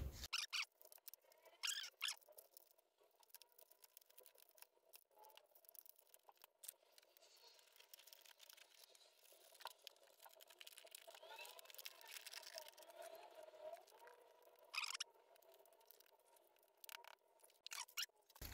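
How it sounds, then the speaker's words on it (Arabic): Scissors cut through a plastic bottle holding a seedling's soil, giving a series of sharp, irregular snips and crunches. The cutting is fairly quiet and close, with pauses between cuts. "نجيب بقى مقص او قطر، اهم حاجه تكون حاميه جدا، ونبتدي نقص الازازه دي"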